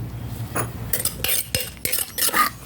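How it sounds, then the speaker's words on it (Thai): A spoon scoops three-flavor dipping sauce for fried fish into a bowl, producing a quick run of metallic clinks and scrapes against the dish, close and fairly crisp. "เสร็จแล้วเดี๋ยวตักใส่ถ้วย"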